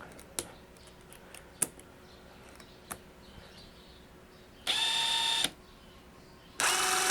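DeWALT DCF850 and Stanley SBI820 impact drivers run in mode one, giving two loud, steady buzzing bursts of about a second each, separated by quiet with a few faint clicks and taps.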